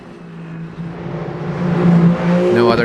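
Race car in Le Mans Ultimate running down the Mulsanne straight at the 24 Hours of Le Mans, a loud steady engine drone that builds in pitch and volume as it accelerates, ending in a rising whine.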